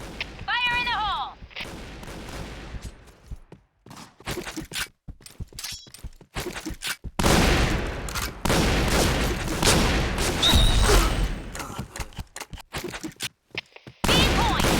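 M1887 shotgun blasts in Point Blank, fired repeatedly in loud, sharp bursts amid other gunfire, explosions and game announcer callouts, with busy battle noise throughout.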